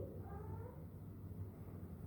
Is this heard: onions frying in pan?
no